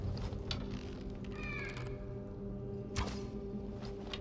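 A cat in Skyrim gives a short meow in the middle of a low, steady game backdrop, fairly faint and with no talk over it.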